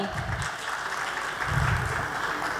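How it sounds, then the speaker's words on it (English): Audience clapping steadily at a technology and education conclave in a hall, a dense, even wash of applause that swells slightly toward the end. "Let's keep clapping."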